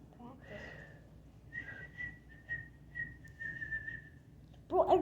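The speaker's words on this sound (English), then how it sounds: "I hear a brother in the room whistling" A person indoors whistles a few sustained, wavering notes with short pauses between them, moderately close and fairly soft, ending in a brief louder burst of noise.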